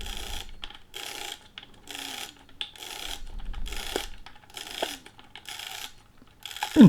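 Winding film through a Kiev 88 medium format camera, a repeated ratcheting crank in regular bursts with short gaps, close and fairly quiet, with small clicks between turns.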